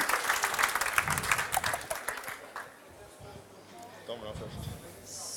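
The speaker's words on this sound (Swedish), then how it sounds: "En applåd." Audience applause in a hall at a semifinal cooking competition, a burst of steady clapping that fades after a few seconds, with a voice speaking over the tail end.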